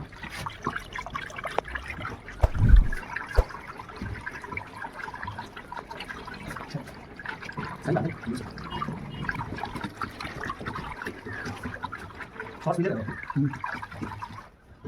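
Oily agarbatti dipping mixture being stirred by hand, giving soft liquid sloshing and trickling with an occasional louder slop, steady and close throughout.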